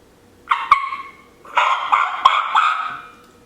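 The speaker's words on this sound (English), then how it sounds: "We have the Drama Queen. It's a 3-reed batwing call." Yelps and cackling notes from a Drama Queen three-reed batwing turkey call, blown moderately in two close bursts, the second longer and busier, with no talking.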